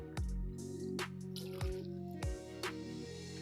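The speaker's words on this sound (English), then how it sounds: "you then want to put 2 ounces of light rum into your shaker" Light rum goes into a cocktail shaker for a daiquiri, heard as a series of soft, close liquid drips and splashes at an uneven rhythm over a quiet background.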